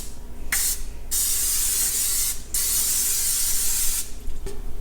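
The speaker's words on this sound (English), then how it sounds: "I'm going to use a canola oil spray" A canola oil cooking spray can hisses in three separate bursts, close by, the first short, the next two longer with brief pauses between.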